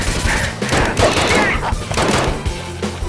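Dense gunfire in the video game Crew Expendable, with rapid overlapping shots and thumping impacts packed tightly into a few loud seconds.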